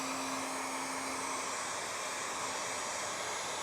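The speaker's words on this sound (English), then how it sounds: "I'm gonna fire up the heat gun." A heat gun blows a steady, faint hiss with a thin constant whine, used on a BMW R1300 GSA motorcycle fork to loosen a reflector's adhesive.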